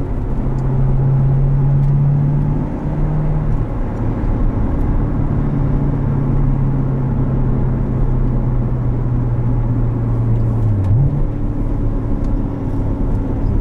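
A 2016 Chevrolet Corvette Z51 with a manual gearbox cruises along with a steady, close engine drone and low road rumble. The engine note dips briefly, as if during a gear change, near the end.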